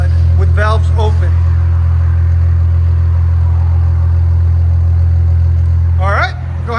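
A 3.0L twin-turbo V6 Infiniti Q60 idles with its exhaust valves open, giving a loud, steady low rumble close by. Someone talks briefly over it at the start and again near the end.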